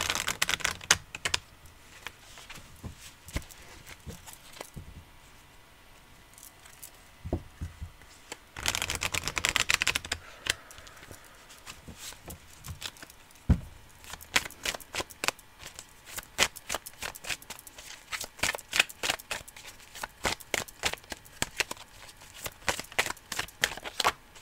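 Oracle and tarot cards being shuffled by hand in a long, uneven run of soft riffles and slaps, with a denser burst of shuffling partway through and quick crisp card flicks toward the end, close and alone.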